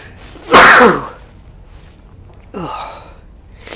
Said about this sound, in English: Oh, I'm definitely working up to a sneeze here.